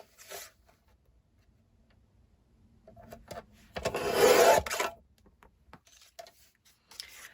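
Cardstock paper is cut into a 1-inch strip, with soft rubbing and handling followed by one short rasping slice, close and quiet with no talk.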